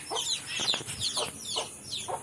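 Several chickens cluck in short repeated bursts at a small backyard poultry farm, fairly close and clear, with no talk over them.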